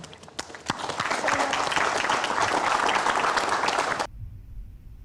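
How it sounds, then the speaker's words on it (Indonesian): A large audience bursts into loud, sustained applause that starts with a few scattered claps, swells into a dense roar of hands, and stops abruptly after about four seconds. "Tepuk tangan."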